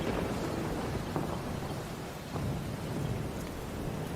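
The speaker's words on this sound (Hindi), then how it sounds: "बाहर इतनी जोरों से बारिश हो रही है" Heavy rain hisses steadily throughout, with low rumbles of thunder rolling underneath, no voices present.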